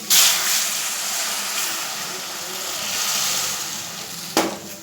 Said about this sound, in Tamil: இப்போ இந்த தண்ணியை ஊற்றிடலாம்.